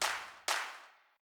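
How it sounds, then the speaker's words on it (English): A clap sample sounds twice through a short reverb, each sharp hit followed by a brief, smoothly fading tail, then silence. "You can hear if I play this clap sound"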